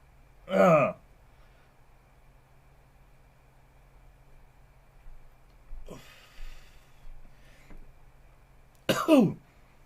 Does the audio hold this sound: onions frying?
no